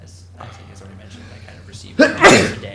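During a student incidental fee committee hearing, a person sneezes once, loud and sharp, right after someone speaks quietly into a microphone.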